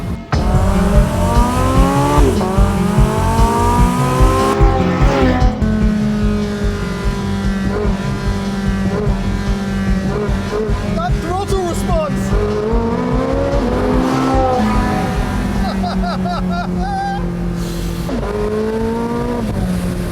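A Porsche 918 Spyder hypercar engine roars and climbs in pitch as it accelerates hard in sixth gear from 50 mph, loud and close, with a voice shouting over it.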